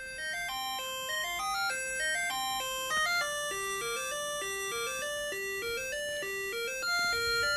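A TV theme played on three Commodore 64 sound chips, a bright chiptune melody of bell-like square tones stepping through the tune, moderately loud, heard alone.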